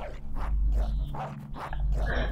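A dog barks and whimpers in a few short bursts inside the video game Fable III, loud and close over a low, steady game soundtrack.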